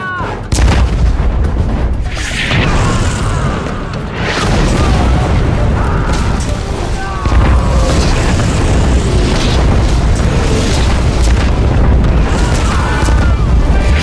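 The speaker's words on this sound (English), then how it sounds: "Sights, locked on a target. Open fire!" Tank guns fire and shells explode in the war game Codename: Panzers, Phase Two: a loud, continuous barrage of booming shots and blasts, some sharp cracks and whistling debris layered over a heavy low rumble.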